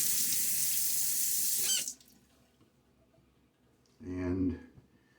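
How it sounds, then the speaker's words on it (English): A bathroom sink faucet runs as a man wets his face before a wet shave, a steady close hiss of water that cuts off after about two seconds, followed by a brief splash of handling. "Get my face wet again."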